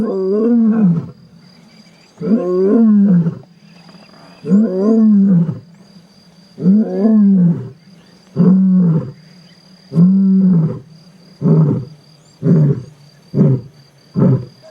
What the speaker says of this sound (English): I was living in a day when such a sound as the lion's roar had not yet vanished from life